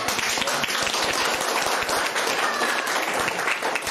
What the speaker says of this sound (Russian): Мне показалось, или они первые себе начали хлопать?